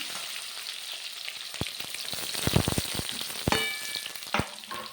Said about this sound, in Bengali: দিয়ে দেবো রসুন, আদা, লঙ্কা, পেঁয়াজ